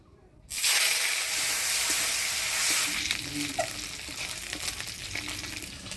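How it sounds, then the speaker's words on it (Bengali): After a brief quiet moment, oil bursts into a loud, continuous sizzle and crackle of dried fish coated in turmeric and salt frying, close up and steady for several seconds. "শুটকি মাছটা আমি হলুদ লবণ দিয়ে ভাজা ভাজা করে নিলাম"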